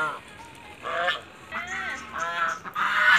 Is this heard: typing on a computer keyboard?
no